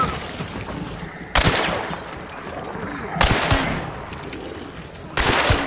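Gunshots in the video game Hunt: Showdown, three loud heavy reports spaced about two seconds apart, each trailing off in a long echoing decay, with low background activity between them.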